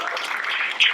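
Audience applause at a community panel event, a steady broadband patter of many hands clapping that swells slightly louder near the end, with no voices over it.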